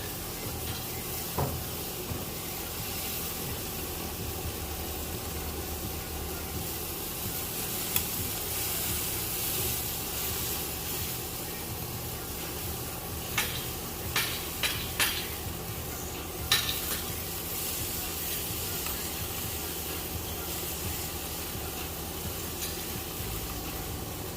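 Jamaican-style jerk pork frying in a pan as the pieces are turned, a continuous close sizzle with scattered scraping and clinking of utensils against the pan, no talking.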